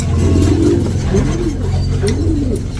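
Pigeons coo in soft, repeated rolling calls over a steady low rumble, fairly close.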